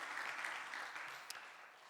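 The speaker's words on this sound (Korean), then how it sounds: "두 분 인사하실 때 큰 축하의 박수 보내주시면 감사하겠습니다" Soft applause from a church congregation during a Sunday worship service, a faint, even patter of clapping that slowly fades over a couple of seconds.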